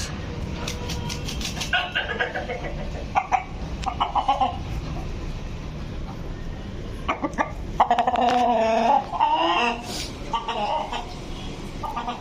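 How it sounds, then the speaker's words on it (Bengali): A pair of desi chickens, a hen and a rooster, clucking and calling in irregular bursts, fairly close, with quieter gaps between calls. "আমার দেশি মুরগি এক জোড়া খুব ডাকাডাকি করে"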